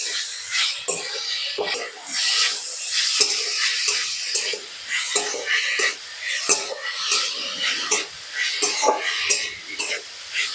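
Coconut filling with date jaggery and cardamom stirred in a pan, a steady scraping and light sizzle with spoon clinks against the metal, close and continuous, faint talk underneath.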